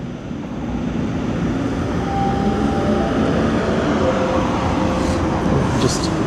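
A Toronto subway train pulls out of Davisville Station with a steady, loud rumble of wheels and motors, a sustained broadband roar with faint whining tones and a brief high squeal near the end.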